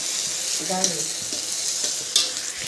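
Tomato and green chili go into a frying curry, giving a strong, steady sizzle with scraping stirring strokes on top and a brief clatter near the end. No voices are heard.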